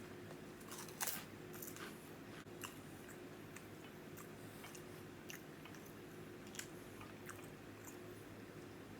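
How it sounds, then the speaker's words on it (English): Someone chews a Wawa Italian sub close to the microphone, soft wet mouth sounds with scattered faint clicks and smacks over a quiet hum, no talk. "Damn, I'm chewing for a long time"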